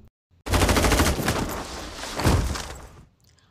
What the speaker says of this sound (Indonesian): Naas bagi Pikram, dia tertembak dan tewas seketika.